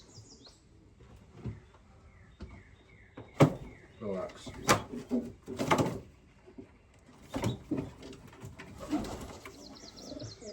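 Young pigeons in a loft, coos and soft bird calls sounding close, mixed with rustling and knocks while a person speaks briefly.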